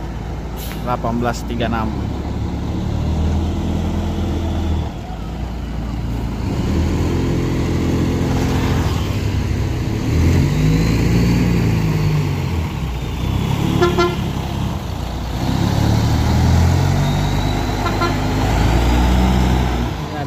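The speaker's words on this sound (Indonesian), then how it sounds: "Bintang Sahira rute Palopo diberangkatkan ini teman-teman" A Bintang Sahira bus bound for Palopo pulls out of a bus terminal: diesel engine rumble, short horn toots and air-brake hisses, with someone talking over it most of the time.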